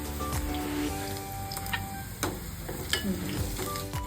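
Cumin seeds crackling in hot oil with fried onion for Marathi-style urad dal, a low steady sizzle broken by occasional stirring taps and scrapes, close and quiet.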